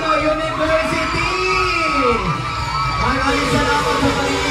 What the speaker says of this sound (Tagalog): Malakas na hiyawan